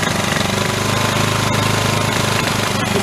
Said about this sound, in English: It's trying to maintain an RPM is what it's doing, and then the throttle just keeps adjusting and trying to maintain it